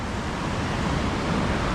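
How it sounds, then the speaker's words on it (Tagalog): Ocean surf washes in a steady broadband roar, close and continuous, with wind buffeting the microphone. "May alon eh."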